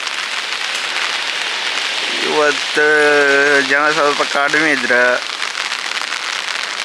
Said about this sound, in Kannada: ಮಳೆ ಸ್ಟಾರ್ಟ್ ಆಯ್ತು ಈಗ,